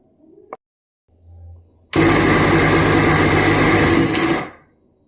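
Mixer grinder blending paneer into a fine paste, a short click and low hum first, then the motor roars loud and high-pitched for over two seconds before winding down.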